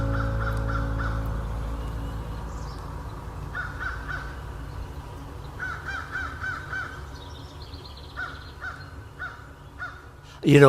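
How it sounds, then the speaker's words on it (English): A crow caws several times in short repeated bursts at moderate distance, the calls rising above steady low background noise, with a sudden loud knock at the very end. "Mr. Crow, I know you've got something to say to me."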